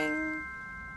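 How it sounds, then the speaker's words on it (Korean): A correct-answer chime rings out once on a talk show: a bright ding-dong-dang with clear sustained tones that fade out over about a second, with no talking over it. "딩동댕."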